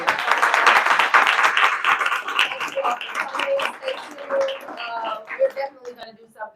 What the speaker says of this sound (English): Why don't we give these ladies a round of applause?